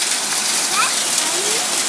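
Hail pouring from the sky in Culver City makes a dense, loud, continuous hiss and patter with no gaps.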